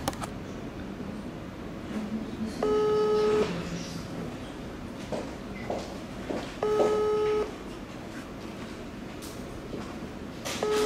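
WhatsApp call ringing out: two separate electronic ringback tone bursts a few seconds apart, moderately loud over a murmuring room background with occasional voices.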